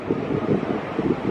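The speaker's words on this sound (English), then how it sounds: "A little bit windy, but not too bad." Wind buffets the microphone on an open cruise ship deck, a steady gusting rush with faint low rumble of the ship, no talking.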